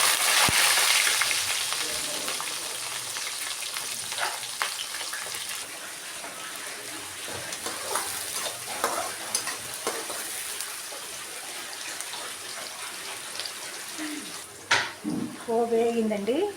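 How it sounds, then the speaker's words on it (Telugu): A tempering of mustard seeds, urad dal, dried red chillies, green chillies and onions sizzles in hot oil for a beans fry curry. The frying is loud and continuous, with scattered clinks and scrapes of stirring. "పోపు వేగిందండి."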